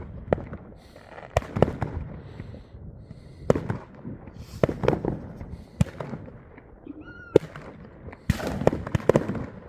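New Year fireworks at Firaja, a dense run of sharp bangs and crackling bursts, some loud and near, others fainter, firing irregularly throughout with no pause.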